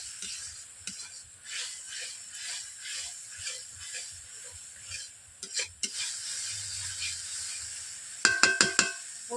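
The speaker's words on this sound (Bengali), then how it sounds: "2 মিনিট ধরে সবগুলো মশলাগুলোকে একই সঙ্গে আমি কষে নিচ্ছি" Spice paste for a rui fish curry is stirred and fried in a wok, with a rhythmic series of scraping strokes over a faint sizzle, ending in a few sharp metallic clacks.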